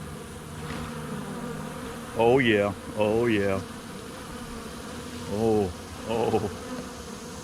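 Bees buzz steadily around a tree outdoors, a close, continuous insect drone beneath a man's short, excited exclamations.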